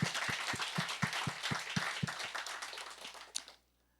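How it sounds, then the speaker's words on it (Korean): A church congregation clapping in thanks during a Sunday worship service, a dense burst of applause with a few sharp individual claps standing out, tapering off and ending abruptly. "우리 주님께 감사의 박수 한번 하고 넘어가야 됩니다."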